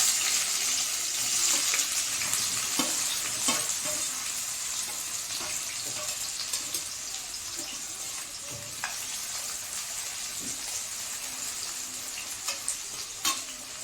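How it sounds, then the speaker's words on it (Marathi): Onion sizzles in hot oil while cooking chicken biryani, a loud, continuous frying hiss with occasional crackles and the scrape of stirring running throughout, close up and without any talking. "आता आपण कांदा घालू"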